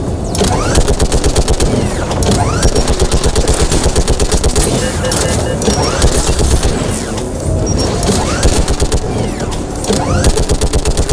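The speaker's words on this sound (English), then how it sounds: "Shepard, you should be able to use the gas turret. More gas!" Rapid gunfire from a gas turret in the video game Mass Effect 3, a loud, dense stream of shots with crashing impacts and battle noise, continuing under voices throughout.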